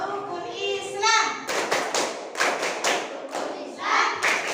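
Children in a classroom clap a rhythmic chant for an Islamic lesson, sharp bursts of group clapping in a steady pattern after a short stretch of a voice, close and fairly loud.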